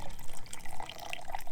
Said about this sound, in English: take cold water, sprinkle the cold water on top, not much